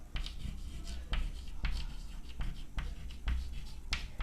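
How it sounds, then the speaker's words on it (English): Pen or marker writing out a math formula on a surface, a quiet series of scratchy strokes and taps repeating every half second or so, close and faint with no speech over it. "now we can write the formula"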